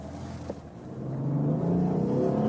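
A BMW M4 Competition coupe's six-cylinder engine revving up, its tone climbing steadily and growing louder as it builds, heard nearby with no talking.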